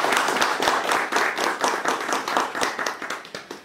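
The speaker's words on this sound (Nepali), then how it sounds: "सबभन्दा पहिला यो कार्यक्रम उद्घाटनका लागि वडा अध्यक्षज्यूलाई ताली बजाउन अनुरोध गर्दछु" Participants at a ward office programme clap together to open it, a loud, close burst of rhythmic handclaps that holds steady and then thins out toward the end, with no voices.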